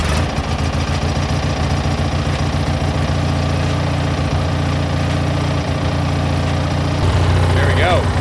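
A small lawnmower engine from a scrap yard idles steadily and close, a loud, even putter that runs throughout while it warms up, with a voice briefly heard near the end.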